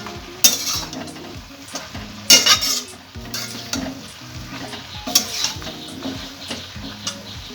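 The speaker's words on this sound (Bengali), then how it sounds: "ভালো করে পালং শাকের সঙ্গে মিশিয়ে নেব।" Spinach mixed with cumin powder in a pan for Bengali palong shak ghonto, stirred in scraping bursts over a soft sizzle, with music playing throughout.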